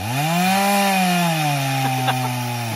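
A small saw in a backyard, overheating and eventually breaking, hums with a steady pitched whine that slowly bends in pitch, with a few sharp scrapes near the end and no talk.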